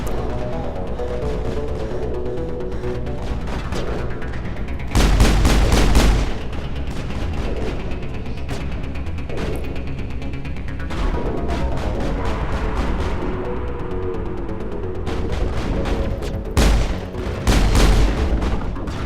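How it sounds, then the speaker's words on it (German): Gunfire and explosions in the Mass Effect video game, with rapid bursts of shots and two loud booming blasts around the middle and near the end, all heard alone without talk. "Das ist Kane, der da rumschießt."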